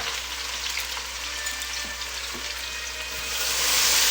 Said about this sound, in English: Just by putting onions and oils in.